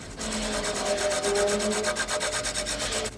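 Valve seat hole in a motorcycle cylinder head being reamed out for a larger YZF-R3 valve, giving a steady close scraping and grinding of metal with rhythmic pulses from the turning cutter, no talk.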